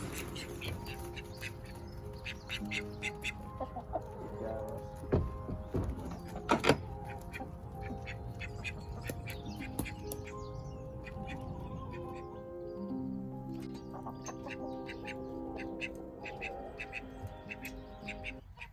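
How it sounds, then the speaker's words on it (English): Chickens cluck and squawk close by on a farm in an irregular chatter, with occasional louder calls and a few knocks in the background. "I'm out here with the chickens"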